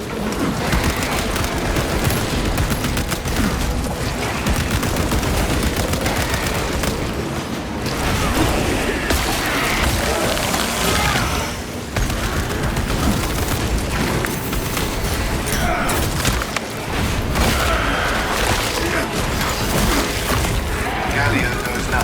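Frag grenade blasts and gunfire rage through combat in Warhammer 40,000: Space Marine 2, a relentless, loud barrage of booms and rapid shots with only brief dips.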